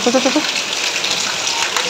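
Steady rain pours outdoors, a loud broadband hiss of drops hitting surfaces, with a brief voice at the start over the downpour.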